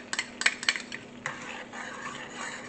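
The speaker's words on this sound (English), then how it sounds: "So I'm gonna add in this minced garlic." Minced garlic sizzles in melted butter in a pan over low to medium heat, with several sharp utensil clinks and scrapes at the start before the frying settles into a soft, steady hiss.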